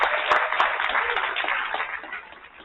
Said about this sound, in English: Can we get one more little round of applause?